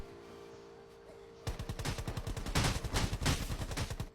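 Rapid gunfire in the Rules of Survival mobile game: a dense burst of repeated shots in quick rhythm, breaking in sharply after a quiet stretch and continuing loud to the end.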